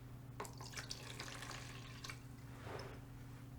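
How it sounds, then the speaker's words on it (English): Saline solution is poured into a clean, empty container, making a faint, soft splashing trickle with a few brief bursts over a low steady hum. "you will pour your saline into another clean, empty container"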